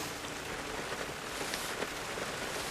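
Steady rain pattering on a house roof, a dense, even hiss that holds at a constant level throughout with no voices.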